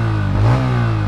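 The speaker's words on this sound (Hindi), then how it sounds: "अब आते हैं इसकी एग्जॉस्ट नोट की बारी पे," Bajaj Pulsar N160 motorcycle engine revving briefly, a loud, close exhaust note rising and settling over a steady idle rumble.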